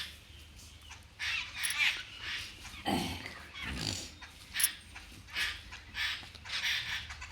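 Sparrows call repeatedly in short chirping bursts, moderately near, with a couple of low rustling thumps in between and no talking.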